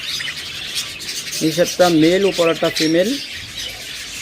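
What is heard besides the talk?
pet birds in a cage chirping, breeding pair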